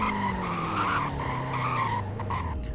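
A car in Roblox Greenville brakes hard in a brake test, tires skidding and squealing loudly over the engine for a couple of seconds as it slows.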